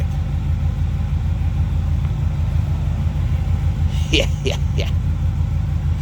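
A 1971 Chevrolet C10 pickup's engine idles after a cold start, a steady deep rumble close by, with a few short bird-like chirps partway through and one brief spoken word.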